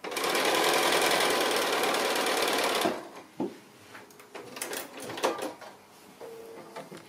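A sewing machine stitches a long pin cushion in a steady, fast, close whir for about three seconds, then stops, followed by a few soft handling clicks and rustles.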